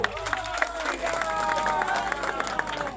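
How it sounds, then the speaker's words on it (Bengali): A crowd at a BJP rally welcomes a speaker, with a steady wash of clapping and cheering beneath a voice on a loudspeaker. "তাকে আমরা করতালি দিয়ে আমরা স্বাগত জানাবো"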